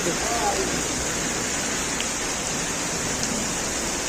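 Steady rain pours onto a city street in Tejgaon, Dhaka, a dense, even hiss with no breaks and a faint voice underneath.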